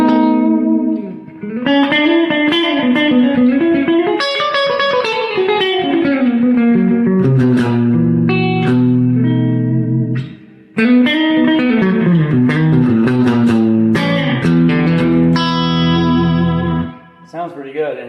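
An electric guitar plays through a Quilter Aviator Cub amp with the reverb turned up to noon, sounding loud and sustained with a slight gritty growl and a lingering reverb tail, chords and single notes ringing with brief gaps.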